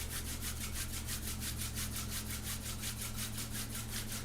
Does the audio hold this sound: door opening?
no